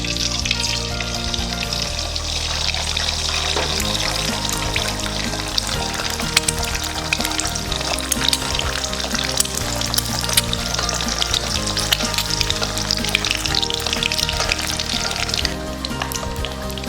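Two eggs frying in hot refined oil until crispy, a loud, steady sizzle and crackle with scattered sharp pops, continuous and close throughout.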